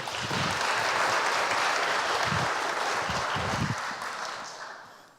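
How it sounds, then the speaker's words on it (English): Audience applause at a blockchain and law conference session, a dense, steady wash of clapping from a crowd that holds for about four seconds and then tapers off at the end, with a few faint voices mixed in. "Welcome them with a round of applause."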